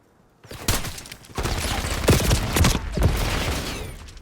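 Rapid bursts of gunfire from the video game Black Ops 6 crackle in dense, overlapping volleys after a brief quiet start, continuing loudly to the end with a few sharper, punchier shots.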